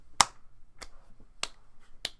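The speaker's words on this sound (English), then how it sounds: "Slow clap for that one." Four sharp, slow, evenly spaced claps ring out, about six-tenths of a second apart, each crisp and isolated against a quiet background with no talk.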